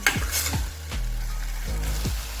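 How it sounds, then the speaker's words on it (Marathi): Khandeshi masala paste frying in oil over a low flame for a mushroom curry: an even, close sizzle broken by several sharp spoon scrapes and taps against the pan. "मी हा मसाला चांगला फ्राय करून घेते तेल सुटेपर्यंत"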